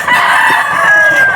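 A rooster crows loud and close at a busy chicken market, one sustained crow running the length of the moment over a dense bed of crowd and bird noise.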